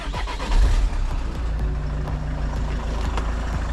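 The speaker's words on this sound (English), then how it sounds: "Let's start her up and see if I've got any leaks." Peugeot RCZ engine cranking and catching, a brief louder burst near the start, then settling into a steady close idle with no talk.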